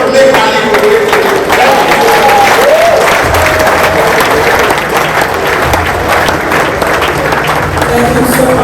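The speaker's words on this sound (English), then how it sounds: "And we keep clapping." Audience in a church venue at a business hangout in Onitsha, Nigeria, claps loudly and continuously, with a murmur of crowd voices mixed into the sustained clapping.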